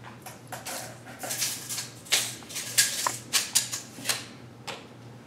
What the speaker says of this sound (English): Grab the knife out of there. Cut along the top.